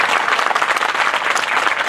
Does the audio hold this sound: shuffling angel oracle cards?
no